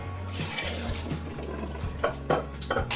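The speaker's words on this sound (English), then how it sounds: "rinse them under cold water" Running cold tap water pours steadily over potatoes in a sink, with a low hum underneath and a few splashing surges.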